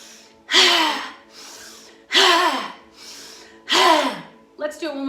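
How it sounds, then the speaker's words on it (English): Breath of fire yoga breathing: three loud, forceful voiced breaths at a steady pace, with quieter breaths between them, close to the listener and ending in a short choppy burst. "The breath of fire, inhale up."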